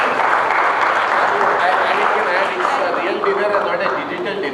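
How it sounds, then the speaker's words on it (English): A crowd applauds at a business school HR conclave dinner, a steady wash of clapping mixed with crowd murmur and voices, sustained and fairly loud throughout. "Give a big round of applause to the top 5."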